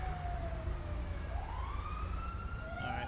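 Police, ambulance and fire engine sirens wail in the GTA LSPDFR video game, overlapping rising and falling tones arriving steadily over a low engine rumble, with no talking.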